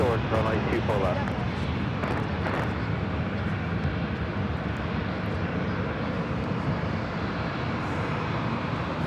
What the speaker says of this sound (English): Southwest Airlines 1166 taking off to Kansas City on the 737-700.